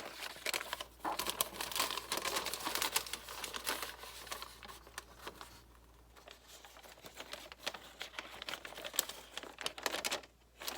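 Scissors snip steadily through a length of paper in a quiet room, producing a close, continuous crisp crinkling and slicing that pauses briefly near the middle and again just before the end.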